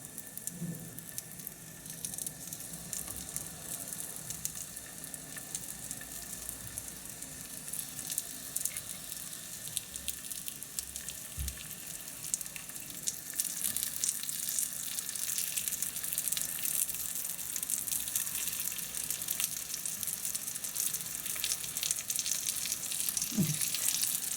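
Quiet, steady sizzling of flattened potato pastries of unleavened dough frying in a pan, a faint crackle building slightly louder toward the end, with a few soft clicks.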